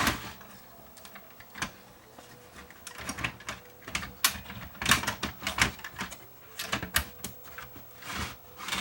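A Samsung VR8140C TV chassis is pressed down into place onto alignment pins, with a run of close, irregular plastic clicks, knocks and scrapes that grow busier toward the end.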